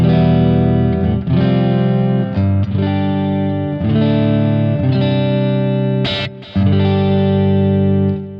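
An electric guitar runs through a Positive Grid Spark amp on its Fender Deluxe-style Luxe Verb model, with the gain set low and the bass turned down. It plays loud, close, sustained ringing chords, changing every second or so, with one short break near the end.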